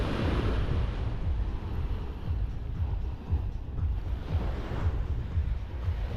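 Ocean waves wash onto an eroded beach at Playa del Carmen in a continuous rumbling roar of surf mixed with buffeting wind noise, steady and fairly loud, with no talking.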